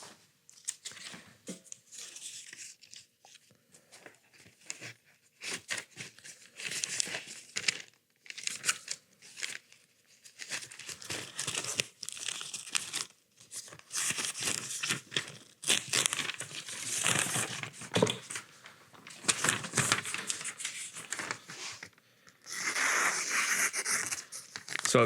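A knife of Rex 121 steel hardened to 70 HRC slices repeatedly through college-ruled notebook paper, giving close, irregular crisp rasps and crinkles in bursts with short pauses between them.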